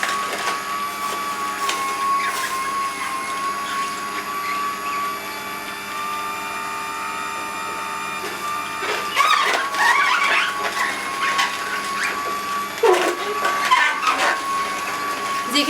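Optimum H3000 2nd Gen juicer pressing apple and cucumber: a steady, fairly quiet motor hum with a faint whine, broken by occasional crunching and squeaking bursts as produce is fed in.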